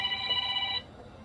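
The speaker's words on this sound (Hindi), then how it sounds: "वहां ऊपर से फोन आ रहा है" An incoming call rings on a phone with a bright electronic tone that holds briefly and then cuts off, leaving quiet background.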